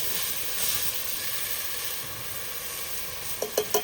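Onions sizzle steadily in hot oil in a pan for a Punjabi dhaba-style mutton curry, a constant close frying hiss, with a few sharp clinks of a utensil near the end.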